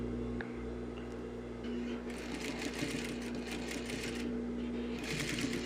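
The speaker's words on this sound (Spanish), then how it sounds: "seguir cosiendo hasta llegar a la cintura" A sewing machine stitching a trouser zipper up to the waistband: a steady, close mechanical whir with rapid needle chatter that grows busier partway through, continuous for the whole span.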